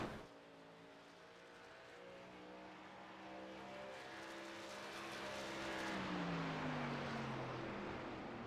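A race truck laps New Hampshire in a racing video game, its engine droning and rising in pitch through gear changes, a continuous buzzing roar that swells toward the end.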